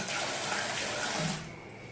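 Water gushes strongly from a restroom tap at a beach resort, a loud steady rush up close that cuts off and drops away near the end.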